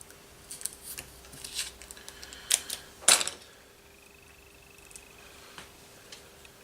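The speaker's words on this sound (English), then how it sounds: "so I'm going to cut off a little bit more" Scissors snip through mould material on a workbench, a few quiet crisp cuts with one sharper louder snip near the middle, set against a low steady hum.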